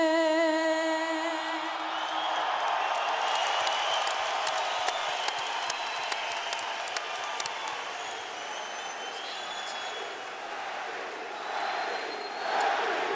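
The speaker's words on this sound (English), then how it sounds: "The crowd chants for their man." Boxing arena crowd before the Manny Pacquiao vs David Diaz fight, a broad continuous roar of cheering and chanting with scattered whoops and shouts, fairly distant and sustained, swelling slightly near the end.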